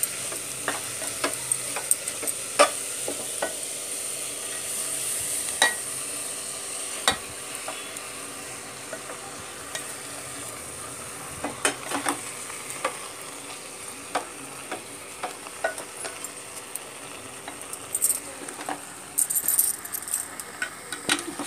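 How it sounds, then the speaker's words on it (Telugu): Chopped tomatoes fry for tomato rice with a steady sizzle, while repeated metal stirring clinks and scrapes come at an irregular pace throughout, sometimes clustering into bursts. "ఇప్పుడు టమాటాలు కూడా వేసేసుకుందామండి"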